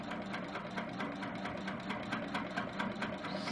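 Sewing machine stitching a quilt block, running steadily throughout with a fast, even mechanical whir and rhythmic needle chatter, close and continuous with no talk.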